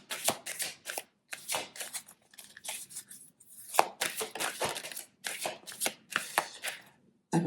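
A deck of tarot cards is shuffled in repeated quick riffles and rustling bursts, close and fairly loud, with short pauses between runs.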